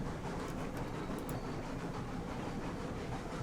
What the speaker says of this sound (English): The train wobbling off the... trying to wobble off the tracks.